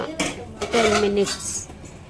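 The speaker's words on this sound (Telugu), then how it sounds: "ఇప్పుడు మనం మూత పెట్టేసి" A lid is set on a dum biryani pot: a metallic clank and scrape with a brief ringing tone, followed by lighter knocks, close and loud.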